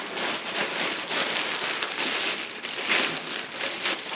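Dense, continuous crackling and rustling of a plastic bag as a SafetyPro label printer is slid out of it, steady and close with no pauses.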